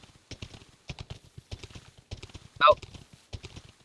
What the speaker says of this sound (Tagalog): Ito, ang daming kabayo.